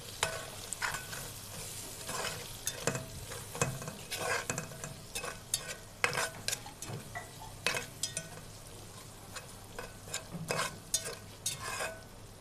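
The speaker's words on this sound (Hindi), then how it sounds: "अब हम इसे अच्छे से मिक्स करेंगे।" Steady sizzling from a hot pan of spices, including black pepper powder, with irregular scraping and clinks as a spoon stirs the contents, continuous and close.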